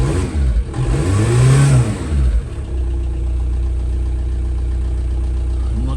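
A VW Caddy 1.9 SDi diesel engine with a refitted throttle revs up hard, then drops back to a steady, loud, close idle rumble that runs to the end.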